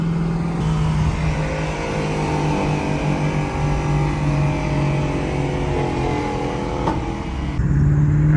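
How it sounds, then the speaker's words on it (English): A 2024 Mustang GT engine running on E85 drones steadily at close range, its pitch climbing gradually as it accelerates on open road, with a brief bump near the end. "Oh man, this car sounds nasty."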